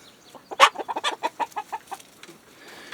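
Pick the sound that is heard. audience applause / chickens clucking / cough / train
chickens clucking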